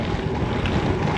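Wind while sailing a boat on the Baltic Sea, a loud steady rush of wind buffeting the microphone over a low wash of water, constant and unbroken.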